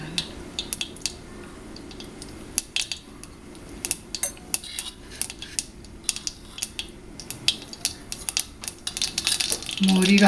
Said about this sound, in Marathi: मोहरी तडतडायला लागली